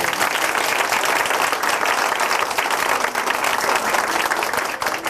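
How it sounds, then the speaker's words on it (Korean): A church congregation claps steadily and loudly throughout, a dense, continuous round of applause. "다시 한번 박수 부탁드릴게요"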